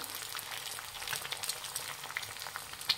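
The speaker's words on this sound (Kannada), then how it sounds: "ಎಣ್ಣೆ ಬಿಸಿಯಾಗಿದೆ. 1-3 ಮೊಟ್ಟೆ ಹಾಕ್ಕೊತಾ ಇದ್ದೀನಿ ಹೊಡೆದ್ಬಿಟ್ಟು." Beaten eggs frying in hot oil for a butter garlic egg sandwich give off a soft, steady crackling sizzle with scattered tiny pops, quiet and close, with no talking.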